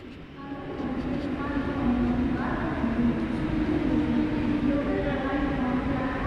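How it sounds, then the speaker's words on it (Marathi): Steady rumble and whine of a train rolling into a station, loud and continuous, with voices talking faintly underneath. "ती आली ट्रेन त्यांची"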